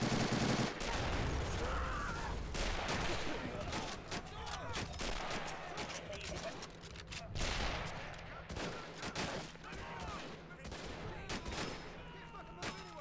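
Dense, continuous gunfire from a World War II shooter running the RobZ Realism Mod, with rapid machine-gun bursts and overlapping shots filling the whole stretch at a steady, fairly loud level.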